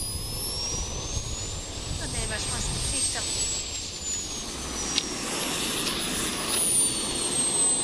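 A jet engine runs on a jet-powered RC car, giving a loud, steady turbine roar with a high whine that shifts slowly in pitch. It is close and continuous throughout, with brief bumps in level.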